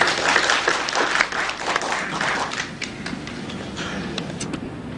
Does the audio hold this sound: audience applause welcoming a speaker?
yes